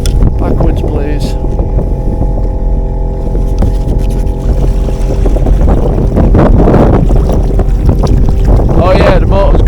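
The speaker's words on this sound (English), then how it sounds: "Oh yeah, the motor's got reverse as well." Small boat motor running in reverse on the River Hull, a loud steady engine drone heavily buffeted by wind noise on the microphone, with voices talking over it.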